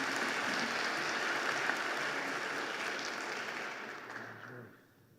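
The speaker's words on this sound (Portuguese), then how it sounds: "Uma salva de palmas." A roomful of people at a mining summit panel clapping, steady and fairly faint, then the applause tapers off and fades out near the end.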